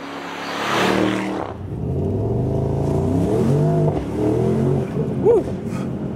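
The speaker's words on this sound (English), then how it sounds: "That was 0 to 40 miles an hour with a lot of fireworks from an exhaust." A Mercedes-AMG SL 63 accelerates hard from a standstill to 40 mph, its engine note rising through the gears with loud exhaust pops and crackles, heard close up and continuous.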